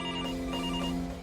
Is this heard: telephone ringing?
yes